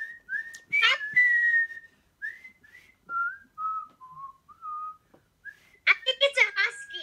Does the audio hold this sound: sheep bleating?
no